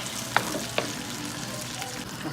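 Tamarind sauce poured over fish frying in a pan sets off a steady, close sizzle, with a couple of sharp clinks of a utensil early on and no talking.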